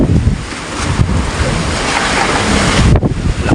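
Strong typhoon wind roars continuously during a severe storm, a loud broadband rush with gusty swells and heavy buffeting on the microphone, with no talking.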